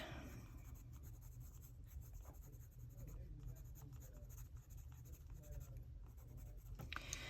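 Seashell pink colored pencil blending across a colouring book page: faint, close scratchy strokes repeating in a steady back-and-forth rhythm, quiet and alone.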